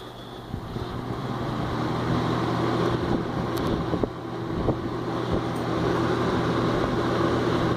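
A vintage 1981 Lakewood P-223 electric fan runs on high with a steady low hum and broadband airy rush, close and continuous, with some wind buffeting on the microphone and a few faint clicks.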